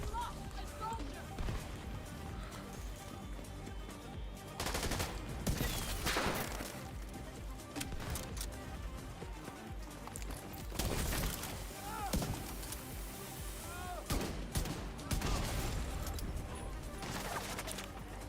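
Gunfire crackles in bursts during a Division 2 global event session, with repeated volleys and impacts in the thick of a firefight while a player talks over it.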